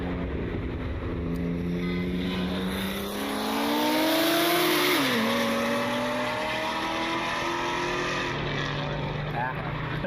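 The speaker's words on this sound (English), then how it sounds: "these BMWs out here try to race" BMW cars street racing near Cleveland Hopkins International airport rev their engines from a distance. A steady rumble carries a rising engine whine that peaks midway, then drops and levels off.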